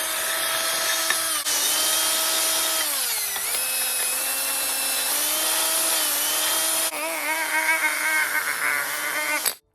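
Reamer working a GT BMX Pro Series 24-inch cruiser sprocket gives a steady, loud metallic whine with shifting pitch, running continuously for nearly ten seconds before cutting off abruptly.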